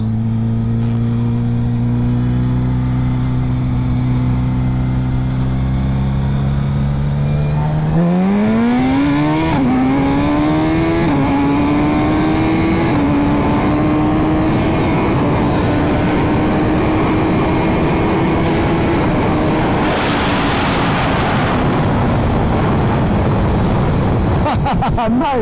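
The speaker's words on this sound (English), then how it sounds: "this will be my first time testing the first gear launch" A Ducati Superleggera V4 motorcycle strapped down for a first-gear launch test from around 30 mph, idling low then revving hard into a long, loud, rising roar that holds high and sweeps upward near the end.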